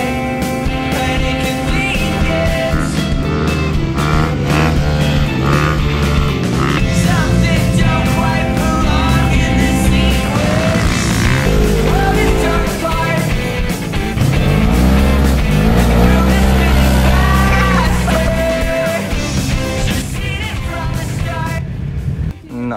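Several dirt bike engines run loud and close in the dunes, revving and idling in a continuous roar with rising and falling pitch throughout.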